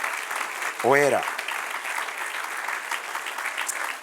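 Church congregation applauds steadily throughout, a broad wash of clapping with a brief spoken word near the start.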